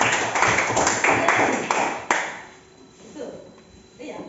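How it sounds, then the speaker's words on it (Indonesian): A classroom of students gives a short burst of scattered applause, several sharp claps ringing out before fading into quiet room noise as a teacher's voice resumes. "Nah, berikan aplaus untuk"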